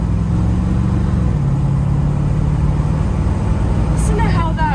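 A 1972 Corvette Stingray engine idles steadily and loud throughout, with a low even rumble that holds without revving.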